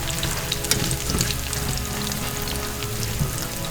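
Korean pajeon pancake batter fries in a hot pan with a dense, continuous sizzle and crackle, close and steady, with occasional louder pops.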